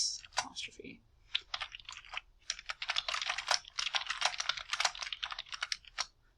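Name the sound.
typing on a computer keyboard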